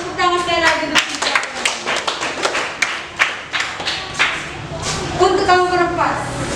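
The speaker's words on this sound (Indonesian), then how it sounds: "tepuk tangan sekali lagi untuk kita." Classroom clapping from a Year 8 Indonesian-language class, a burst of hand claps with sharp slaps around the middle of the clip, mixed with students' voices chanting at the start and end.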